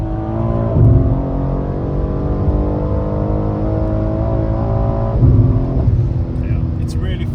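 A BMW M3 G80 with a Valvetronic exhaust on a dyno at night, a loud steady engine drone with rising harmonic pitch through the gears and two brief surges, continuous throughout with no pause.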